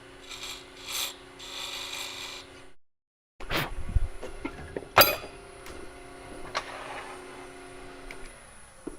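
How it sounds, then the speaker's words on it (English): A chisel scrapes a small chamfer into a turned wooden two-piece threaded ornament on a lathe, with short raspy bursts, a silent gap, then a sharp catch and quieter scraping, close and faint. "I need to cut a little chamfer"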